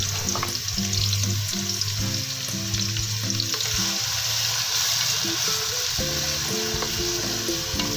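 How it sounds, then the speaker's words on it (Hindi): Chopped onions hit hot ghee in a pan for fish karahi, giving a loud, continuous sizzle and crackle that carries on without a break from start to finish. "अभी हम इसमें डालेंगे जो प्याज हमने चॉप किया था"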